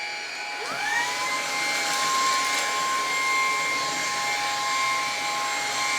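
A Lupe Pure cordless vacuum cleaner runs with a steady, close whine. Its pitch shifts as the head moves from a wooden floor onto thick pile carpet, then it holds an even, loud drone with no talking.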